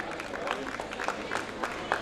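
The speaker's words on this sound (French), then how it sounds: "Je tiens à ce que vous applaudissiez ici solennellement notre fédération" Applause for a basketball federation at a formal gathering, a scattered patter of hands with a few sharper claps, fairly faint and steady under a noisy room.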